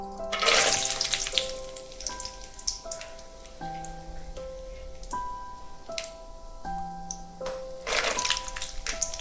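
Peanuts roasting in a pan with mustard seeds for South Indian tamarind rice, a soft crackling sizzle with scattered pops over a background of steady tones, no talk.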